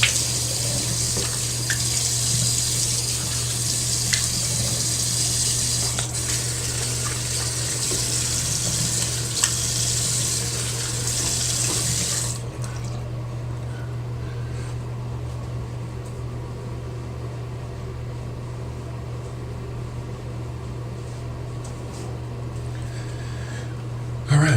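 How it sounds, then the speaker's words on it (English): Tap water runs steadily into a bathroom sink as it drains and a freshly shaved face is rinsed, a constant close hiss that drops to a softer trickle about halfway through, with a low hum beneath. "start draining my sink, and we're gonna go ahead and rinse this off"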